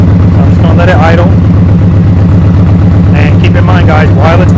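Steady, loud, deep idle rumble from a nearby 2023 Indian Pursuit Elite motorcycle with a Tab Performance exhaust, with someone talking over the engine at several points.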